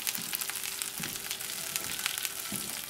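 Okra sizzles and fries steadily in oil in a pan while cooking for a chicken sausage gumbo. The crackling hiss is continuous and close, with soft stirring thumps at intervals and no talking.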